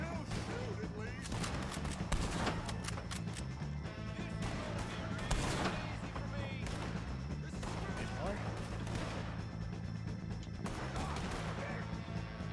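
Gunfire in Red Dead Redemption 2 during a shootout, repeated sharp cracks and crashing impacts scattered across a steady background, with a voice talking at points.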